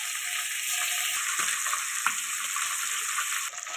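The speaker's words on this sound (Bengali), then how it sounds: "হলুদ নুন মাখিয়েছিলাম মাছগুলো ভেজে নেব।" Small mourala fish rubbed with turmeric and salt fry in hot mustard oil in a kadai, a bright, steady, close sizzle with scattered soft pops throughout.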